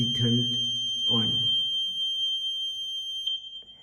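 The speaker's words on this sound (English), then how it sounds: "the buzzer turned on and the red LED turned on." An Arduino buzzer alarm, set off when a ruler moves toward an ultrasonic sensor, sounds as one steady, piercing high-pitched tone that runs unbroken through the whole clip, with brief talking over it at the start.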